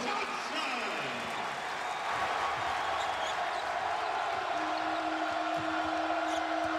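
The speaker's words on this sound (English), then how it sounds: "And the crowd re-energized" Arena crowd at a 2014 Kansas State versus Iowa State college basketball game, a steady, distant roar of cheering with a commentator talking over it throughout.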